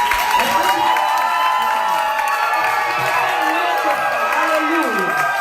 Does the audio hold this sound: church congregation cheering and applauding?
yes